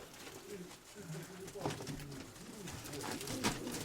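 Pigeons coo in soft, repeated throaty phrases throughout, close by and continuous, while people chat in the background.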